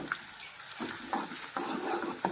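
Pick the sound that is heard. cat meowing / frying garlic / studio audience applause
frying garlic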